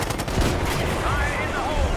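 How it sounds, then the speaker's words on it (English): Rapid gunfire fills a firefight in the video game Call of Duty Black Ops 6, a dense continuous loud rattle of shots with voices shouting over the noise. "Hey, we're taking fire!"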